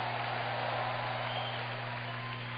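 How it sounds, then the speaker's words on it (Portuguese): Steady broadband applause from a large church congregation, dense and continuous, with a low hum underneath and no distinct voices. "Dê um aplauso ao Senhor e glorifica Ele com um brado de júbilo."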